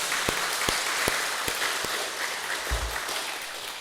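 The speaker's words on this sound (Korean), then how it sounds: "한번 수고하고 헌신하는 분들 박수로 축복하며 격려해 주세요." Steady, fairly loud applause fills a church as the congregation honours its volunteers, with a few low thumps standing out under the dense clapping.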